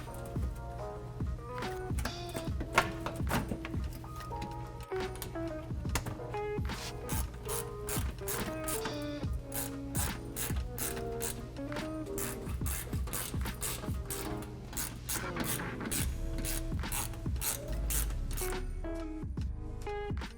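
Ratchet driving screws back into the plastic under the front bumper of a 2014–2021 Toyota Tundra, continuous close clicking in quick runs and pauses with no talking.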